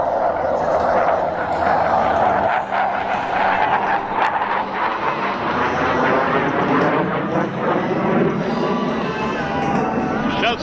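A German Tornado fighter jet flying an aerobatic demo, its engine roar sustained and loud with a sweeping pitch as it turns, under a commentator talking.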